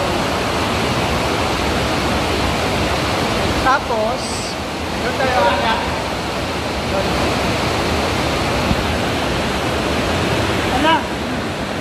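Small waterfall in an underground river cave at Jovellar, Albay, a steady broadband rush of falling water that fills the whole clip, with brief faint voices and echoes over it.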